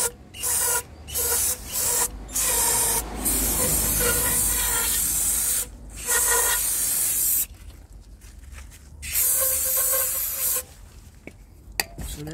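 An aerosol can of EGR cleaner sprays onto a Jeep's EGR cooler pipe in a series of loud hissing bursts, some short and some lasting a second or more, separated by brief pauses, close up and with no talking.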